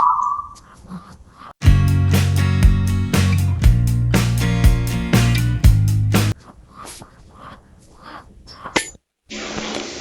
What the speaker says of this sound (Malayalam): ഇപ്പം നിങ്ങൾ കേട്ടില്ലേ, അതാണ് ഇപ്പോൾ തവളകൾ കരയുന്ന സൗണ്ട്